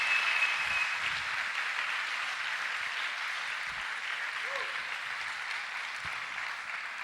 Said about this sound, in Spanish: Démosle un aplauso fuerte